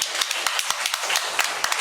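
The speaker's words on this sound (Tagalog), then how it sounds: "Palakpakan natin ang ating Panginoon." A congregation at Mass in a national shrine church applauds steadily, a broad wash of many hands clapping with sharper individual claps standing out, continuous and fairly close, with no talk over it.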